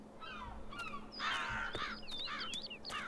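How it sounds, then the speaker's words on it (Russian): A crow caws several times in the game Dreamfall Chapters, loud harsh calls repeated in a ragged rhythm over a faint steady background hum. "Так, ворон."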